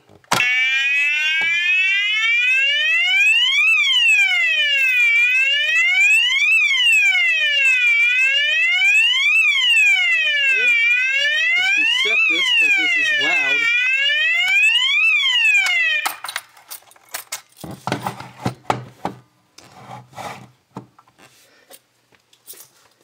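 A loud electronic fire alarm, a Chinese copy of a SpectrAlert unit, wails in steady, rapid rising and falling sweeps, then cuts off and is followed by scattered clicks and handling noises.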